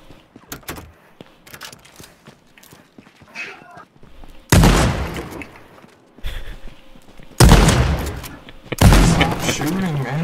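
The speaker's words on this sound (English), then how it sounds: "Shooting, man." Video game gunfire comes in several loud, abrupt bursts separated by quieter stretches of clicks and movement, with people talking in between.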